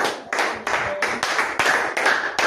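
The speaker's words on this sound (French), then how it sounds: "Applaudissons pour le Seigneur Jésus" A church congregation claps together in a brisk, even rhythm, with sharp, loud bursts of many hands arriving several times a second.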